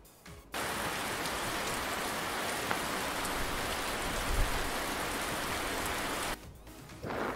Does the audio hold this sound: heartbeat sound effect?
no